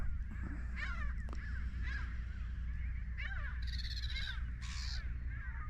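Gulls call repeatedly in the distance, harsh squawking cries as they dive at a seal, over a steady low rumble of wind or water on the Solent.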